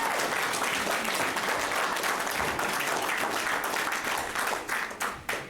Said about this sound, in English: I would actually ask that we hold the applause.